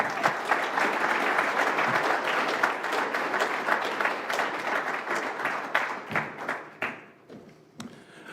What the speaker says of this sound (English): Another big round of applause for Mr. Weber, please.